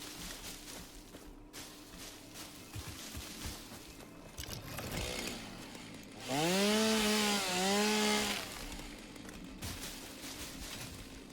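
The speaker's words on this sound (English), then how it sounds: "I love my chainsaw" A chainsaw in the video game Satisfactory hums steadily, then revs into a loud, rising whine for about two seconds before settling back to a lower drone. No one speaks.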